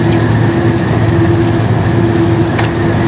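Light, steady rain falls continuously on an overcast early morning in Rio Preto, São Paulo, a dense even hiss that stays loud and unbroken throughout with no talking.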